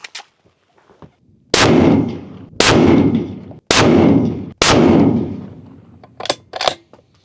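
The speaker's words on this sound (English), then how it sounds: "just for fun, I'd like to see you shoot the rest of the group" Four loud rifle shots ring out at a 100-yard range, roughly one second apart, each a sharp crack followed by a booming echo, with a few softer clicks and knocks after them.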